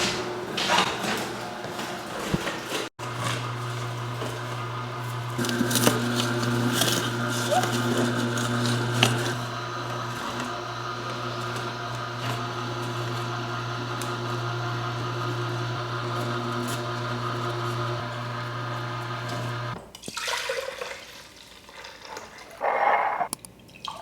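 Kuvings Auto10 Plus juicer juicing apples, a steady motor hum with grinding and crunching running for about seventeen seconds before cutting off, followed by a few clatters.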